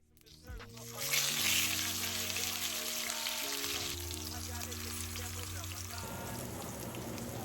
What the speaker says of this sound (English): we're going to use some shallots to flavor the oil that we're going to sear